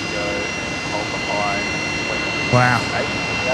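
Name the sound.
Rolls-Royce jet engine of aircraft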